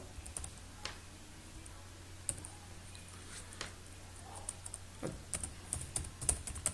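Python code being typed on a computer keyboard, with scattered close key clicks in irregular bursts over a low steady hum and no talking.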